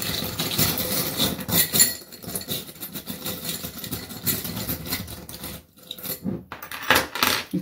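Metal charms jangle and clink together in bursts of bright, close rattling, with a brief pause near the end before the jingling resumes.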